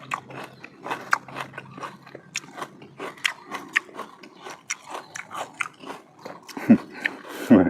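Crisp, close crunches and bites come from someone eating chilled pickled jujube fruit steeped in milk syrup, a steady string of wet crunching and chewing that ends in a few louder snaps.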